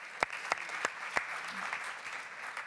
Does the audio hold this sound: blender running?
no